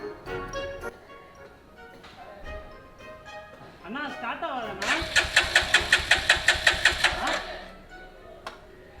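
A Royal Enfield Himalayan BS6 motorcycle engine cranks with a rapid rhythmic chug for a few seconds, then fades. Voices talk nearby before it starts.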